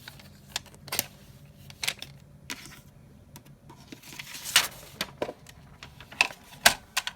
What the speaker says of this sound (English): what I'm going to do is cut down my piece of vellum to 8 by 11, my Recollections